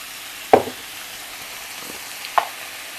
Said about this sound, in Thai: แล้วเราก็ผัดให้หมูสุก ก่อนนะคะ